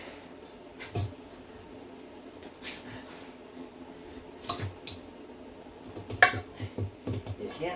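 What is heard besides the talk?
tire spoons prying a tire onto a Jeep rim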